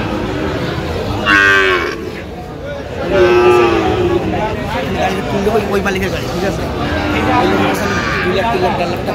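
Sahiwal bull calves and cattle moo at a livestock market in Dinajpur. Several drawn-out lowing calls are heard over a steady hubbub of crowd noise, with people talking nearby.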